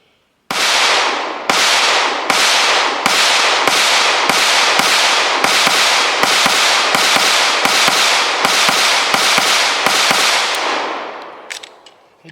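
A Canik striker-fired pistol firing Monarch ammunition delivers about fifteen sharp, loud shots in a steady, fairly quick rhythm, each one ringing briefly before the next, ending with a few faint clicks.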